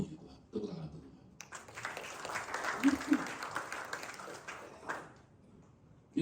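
Church congregation applauding during a sermon, a sustained wash of clapping rising after a spoken lead-in and fading out over several seconds, with the preacher's voice before it.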